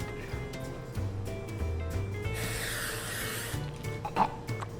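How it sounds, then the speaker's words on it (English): A short, close hissing spray of cooking spray onto a baking sheet lasting about a second or two, rising out of quiet background noise. "And I'm gonna spray it with some cooking spray."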